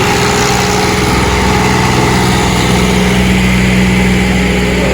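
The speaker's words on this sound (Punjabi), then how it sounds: "ਆ ਟਰੈਕਟਰ ਭਰਿਆ ਹੋਇਆ ਜੀ ਰੇਤੇ ਦਾ" A tractor loaded with sand idles loudly and close by, a constant low rumbling chug with no break throughout.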